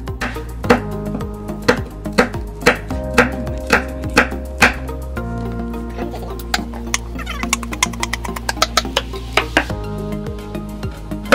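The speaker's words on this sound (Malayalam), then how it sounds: "മുളകിപ്പോൾ നമ്മൾ ചെറുതായിട്ട് മുളക് ഇപ്പം അരിഞ്ഞെടുക്കുന്നുണ്ട്" Knife repeatedly chopping chilies finely on a cutting board for a lime cocktail, steady rhythmic close taps with a brief pause midway, over light background music.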